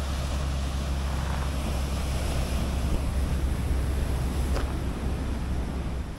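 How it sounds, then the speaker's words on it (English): Ocean waves and steady wind at Goat Island in Cataño, Puerto Rico, a continuous broadband roar of surf with wind buffeting the microphone throughout, no voices. "Look at the waves."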